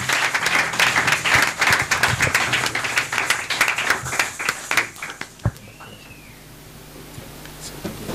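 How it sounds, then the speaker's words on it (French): A church congregation at a fifth anniversary celebration applauds and acclaims the Lord, brisk loud clapping with some shouts that fades out after about five seconds into quieter room noise. "Est-ce qu'on peut acclamer le Seigneur?"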